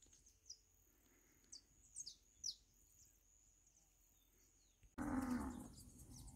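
Farm in Guaranésia, Minas Gerais, with cows: quiet countryside ambience with scattered bird chirps, then a loud close moo near the end.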